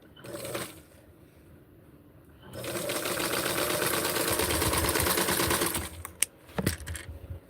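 A sewing machine stitches vintage 1960s barkcloth with maroon thread, with a brief run, a pause, then a sustained fast whir of about three and a half seconds ending in a few clicks.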